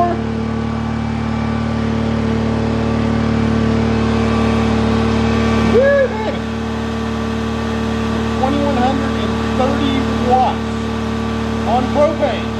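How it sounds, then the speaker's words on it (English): A Honda EU2200i inverter generator converted to run on propane hums steadily under load, then ramps up. It gives a close, constant engine drone with tonal whine lines, and its pitch shifts slightly midway as the revs climb. "the generator ramped up again some more."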